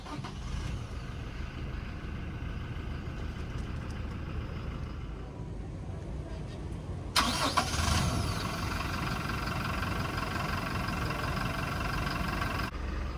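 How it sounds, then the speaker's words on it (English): 2021 Toyota Hilux Conquest 4x2 pickup started by push button: a low idle rumble runs steadily, then a sudden crank and catch about halfway through lifts into a slightly louder, even idle that carries on to the end. "So to start the engine, just put your foot on the brake and then push the button to start."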